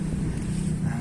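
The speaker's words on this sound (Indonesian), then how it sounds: "Kencang ya, angin." Strong wind roars steadily across the microphone during mullet fishing outdoors, a constant low rumble that carries through the whole moment, with no clear voices.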